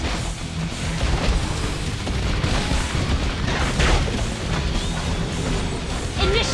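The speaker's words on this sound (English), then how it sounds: "Your team destroyed a turret." A turret being destroyed in Mobile Legends: Bang Bang: a dense, loud wash of booming crashes and bursts of battle noise that carries on steadily throughout, with no voices over it.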